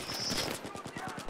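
Rapid gunfire in Battlefield 3, a fast rhythmic burst of about a dozen sharp shots in quick succession, fairly quiet and mixed with other game sounds.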